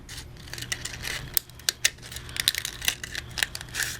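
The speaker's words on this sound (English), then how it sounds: "just trim till they're about 1/8 inch away from the circle of the bottle bottom" Scissors trim paper flaps down to about 1/8 inch around a circle traced from a bottle bottom for a candy gift tag. Quiet, irregular close-up snips and crisp paper clicks come in quick bursts, with no talk.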